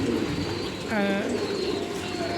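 Soft pigeon cooing rumbles continuously in a pigeon loft on a farm in Qatar, with a brief whistled chirp partway through and a voice speaking faintly over the birds.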